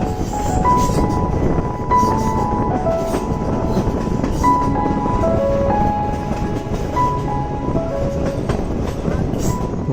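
A passenger train runs on the line from Vizag to Araku, giving a steady, continuous rumble with wheel clatter throughout and scattered higher tonal squeals over the noise.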